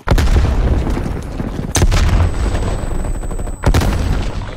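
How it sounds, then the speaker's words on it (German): Gunfire and blasts in a Call of Duty Cold War multiplayer match, with loud dense shooting and two sharp booms cutting through, one near the middle and one near the end. "Werfe Granate!"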